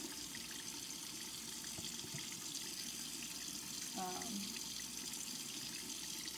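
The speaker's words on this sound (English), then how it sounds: "So I'm just going to rinse all this out." A steady, even rush of water runs from a tap as a cup used for baby axolotls is rinsed out at the sink, with a brief higher splash midway through.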